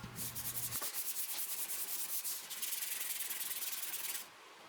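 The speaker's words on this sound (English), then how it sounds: "I just touched up the outside edges with some sandpaper by hand. I think this was 220 grit" Hand sanding the edges of a wooden floating shelf with 220 grit sandpaper, a steady, close, continuous rasping rub that runs for several seconds and then stops abruptly.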